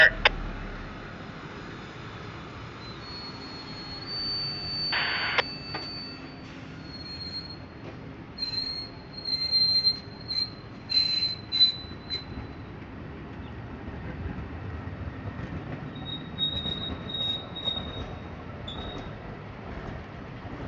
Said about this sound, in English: Amtrak P040, the northbound Floridian train from Miami, Florida to Chicago, Illinois.